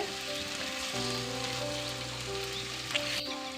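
Eggs frying with masala in a pan give a continuous light crackle and spatter, close and fairly soft, over a low steady hum.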